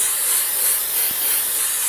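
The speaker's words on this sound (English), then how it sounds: "So I'm going to go ahead and use this as my setting spray today." L'Oréal Paris Infallible setting mist is sprayed close by, making a loud, steady airy hiss that lasts the full two seconds with no break, and no one speaks.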